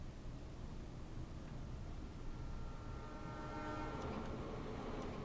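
An express train rushes past in a train driving video game, a loud steady roar of wheels and rushing air filling the whole stretch, with faint horn-like tones rising near the end.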